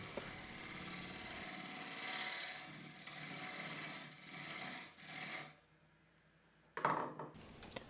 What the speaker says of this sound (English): I went a little deeper with the Forstner bit so I could come and clean this up.